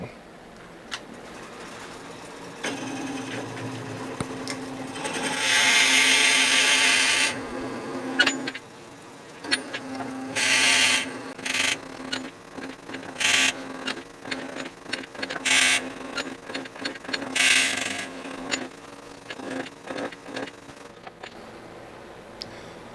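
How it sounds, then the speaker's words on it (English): A drill bit bores into a small wooden hollow form spinning on a lathe at about 400–500 RPM, giving a steady whirring hum with several louder grinding surges as the bit is cranked forward by hand. "And let's just drill this out."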